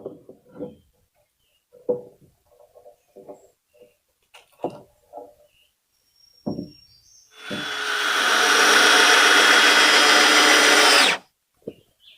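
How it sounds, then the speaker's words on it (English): A power drill drives screws into a tiny house floor: a single loud, sustained whir lasting a few seconds, preceded by scattered light knocks and handling noises. "I'm going to screw it to this other one here and then screw it down"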